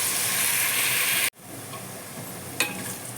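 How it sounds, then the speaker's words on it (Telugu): Sliced onions fry in a pan toward golden brown, giving a dense, loud sizzle that cuts off abruptly, then returns as a quieter hiss with a brief clatter near the end. "నెక్స్ట్ మనకు ఉల్లిపాయలు బాగా గోల్డ్ కలర్ వచ్చేంత వరకు"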